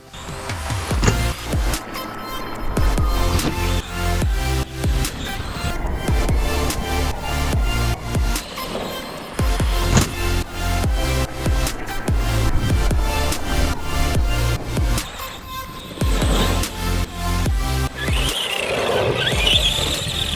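Arrma Granite 1/10 scale 4x4 RC monster truck driving through snow, its electric motor whining and revving continuously with rising and falling pitch, loud and close, with brief drops between bursts of acceleration.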